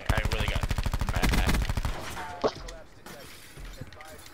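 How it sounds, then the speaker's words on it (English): Rapid rhythmic gunfire in a video game, a loud continuous burst lasting about two seconds, then a single sharp blast and quieter scattered game sounds afterward. "Shotgun."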